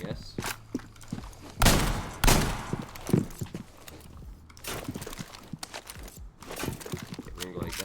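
A four-shot shotgun fires in Rainbow Six Siege, several loud close booms among scattered gunfire, footsteps and clattering game effects, with a player talking over parts of it.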